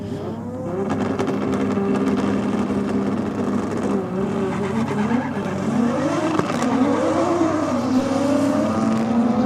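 A V8 ute at a drag race revs hard and launches off the line, the engine note climbing and wavering with tyre squeal, loud and close, and no talking.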